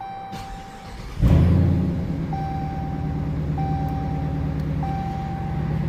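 A Dodge Charger fitted with hand controls starts up: a chime tone and clicks, then the engine cranks and catches with a sudden burst, settling into a steady low idle while a warning chime repeats.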